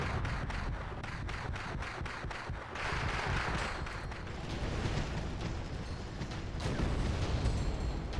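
Tank battle in the video game Wargame European Escalation, T-80 and T-62 tanks destroying M113 carriers: a rapid series of sharp booming shots, then rolling heavy explosions and rumbling blasts of varying loudness.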